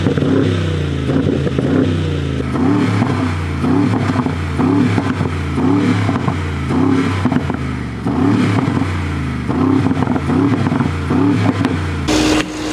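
Engine of a 24-inch-wheeled Keyvany-tuned car with a lightly modified exhaust revs repeatedly, a loud, throaty, pulsing rumble that rises and falls close by, with clattering, mechanical texture and no talk.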